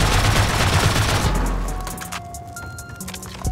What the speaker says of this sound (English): I think we're okay, it's just a semi-auto rifle.